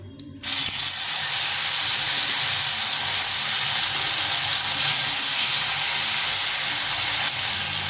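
Chopped tomato dropped into hot oil with frying spiced masala, a sudden loud burst of sizzling hiss that then stays steady and dense close up, with no talk.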